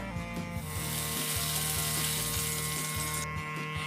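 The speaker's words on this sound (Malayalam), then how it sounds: "നെയ്യ് ചെറുതായിട്ടൊന്ന് ചൂടായി വരുമ്പോൾ നമുക്ക് അതിലേക്ക് നേരത്തെ എടുത്തു വെച്ച പാൽ ഒഴിച്ചു കൊടുക്കാം" Milk poured into hot ghee in a pan for semolina gulab jamun gives a steady, close hiss and sizzle that fills the whole moment, over a low humming background.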